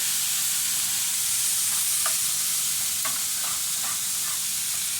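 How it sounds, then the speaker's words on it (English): Vegetables added back into a pot of goulash with the meat hiss and sizzle steadily, with a few light spoon clinks and scrapes as they are given a quick stir. "let's add our vegetables back in there. Give them a quick stir."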